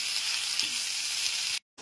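Sliced tomato dropped into onions already frying in a pan for masoor dal khichdi, giving a steady close sizzle with faint stirring that runs unbroken, then cuts off abruptly into silence.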